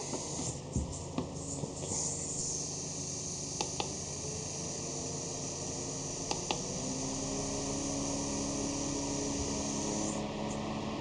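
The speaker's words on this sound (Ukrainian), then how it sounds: "І вмикаємо з вентилятор." A mini cooling fan with built-in humidifier and aroma functions runs steadily, giving a constant soft airy whir and hiss with faint clicks, close by and with no talking.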